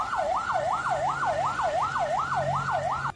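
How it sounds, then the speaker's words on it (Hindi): A roadside ambulance siren wails in steady, rapid up-and-down sweeps, loud and close, repeating about eight times before cutting off abruptly. "वायरल हुए इस वीडियो में सायरन बजाती हुई एक एम्बुलेंस सड़क किनारे तब तक खड़ी दिखी"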